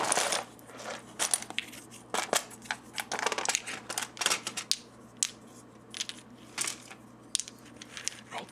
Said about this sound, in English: I have spare buttons in here, kind of floating about.